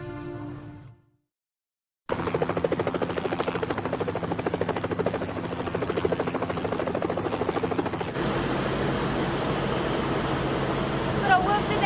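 A helicopter's steady, rapid rotor thumping and engine roar fill the scene after a brief moment of speech and a short silence.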